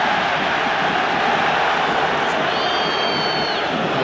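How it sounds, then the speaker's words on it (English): A rugby stadium crowd at the 2006 Heineken Cup quarter-final between Toulouse and Leinster screams and cheers in a dense, steady roar, with a brief high whistle-like tone partway through. "The crowd are screaming them forward."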